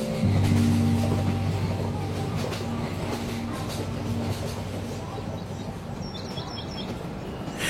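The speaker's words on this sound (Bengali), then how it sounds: "ট্রেন এসে বর্ধমানে থামল।" A train pulls in and slows to a stop at Bardhaman station, its steady low rumble and rolling hum dominating from start to finish, with faint bird chirps high above near the end.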